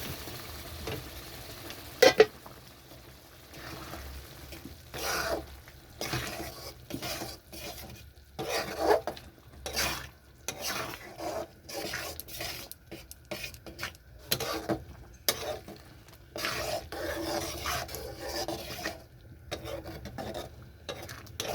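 Lentils tipped into cooked spice paste in a pot and stirred, repeated scraping and knocking strokes of a spoon against the pan over a low sizzle, continuing in uneven bursts.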